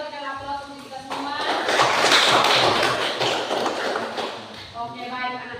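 Applause from a classroom of schoolchildren at the end of a lesson, a dense burst of many hands clapping that swells for about four seconds between stretches of a teacher's speech.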